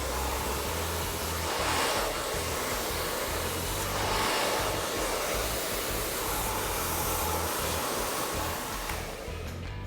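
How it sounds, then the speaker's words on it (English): A hair dryer blows steadily and loudly while hair is dried with a large round brush, its airflow swelling and easing slightly as the brush moves, then cutting off at the very end. "I'm gonna go through with a large round brush, and I'm just gonna blow dry that in"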